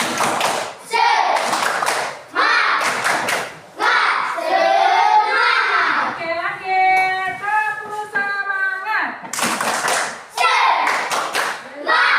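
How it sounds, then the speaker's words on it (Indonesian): Children in a classroom clap their hands in several loud, rapid bursts, with a teacher and kids' voices heard between the rounds of clapping. "Ayo, tepuk tangan."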